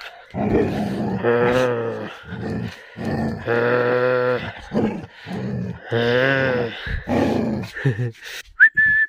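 Person whistling repeatedly outdoors in the Himalayan hills to call a dog back, long sustained tonal whistles broken by short gaps, close and clear, with a brief high whistle at the end.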